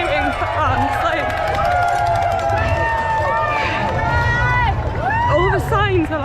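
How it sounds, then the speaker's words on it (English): Crowds lining the New York City Marathon course cheer and shout for passing runners, a steady roar of voices close by, with one speaker talking over the noise. "all these people are out cheering for us"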